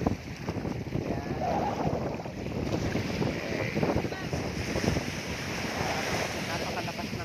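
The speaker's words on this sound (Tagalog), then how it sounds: "Napakalakas ng alon, agos ng tubig" Strong waves and rushing current at Isla Verde, a broad, steady wash of surf and water roar blended with wind buffeting the microphone, continuous and fairly loud throughout.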